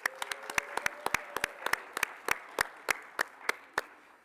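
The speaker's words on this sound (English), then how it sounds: "Please join me in giving our Exemplary Leadership and Service Award winners another round of applause." A small audience claps for award winners at an honors ceremony, a sparse round of distinct individual claps, fairly close, that slows and thins out over a few seconds.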